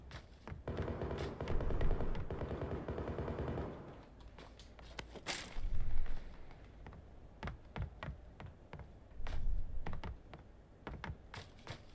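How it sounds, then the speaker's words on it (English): Repeated sharp gunshot bursts from the video game PUBG, some in rapid clusters, with clicking and background combat noise throughout. "there's lots of gunshots in the background, so I should really be careful."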